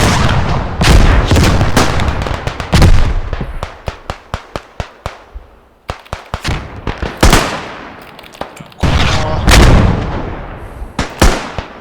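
Dense artillery barrages from the Beyond The Wire video game, with heavy booms and sharp blasts landing in rapid, overlapping bursts, briefly thinning to spaced single thuds before another loud volley rolls in.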